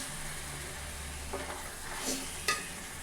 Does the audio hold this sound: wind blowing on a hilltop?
no